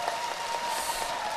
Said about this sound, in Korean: 이럴 때 또 박수가 한번 나와야 되는데